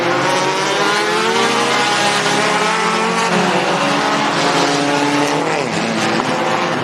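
Sport compact race cars at Mohave Valley Raceway roar off the green flag, engines revving loudly and continuously as a pack, with tire squeal, heard close with no talk.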